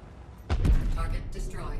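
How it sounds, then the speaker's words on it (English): A ship blows up in a naval combat crafting game, a loud booming blast with a rumbling tail lasting about a second, followed by lower crackling and mixed game noise. "Target destroyed."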